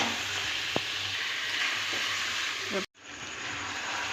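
Meat frying in hot spiced oil with garlic, onion, chili, salt and turmeric for kosha mangsho, a continuous sizzle with a few stirring clinks and a brief cut to near silence before the sizzling resumes.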